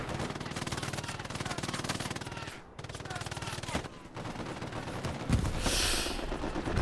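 Strafing-run gunfire in the World War II shooter Hell Let Loose on Juno Beach, a loud, continuous stream of rapid shots that breaks off briefly and comes back, with a bright burst near the end.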